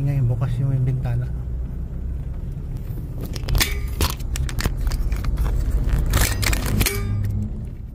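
Rumbling road noise and wind roar through an open car window while driving between Davao City and Koronadal City, steady throughout with brief clatters, under conversation in the car.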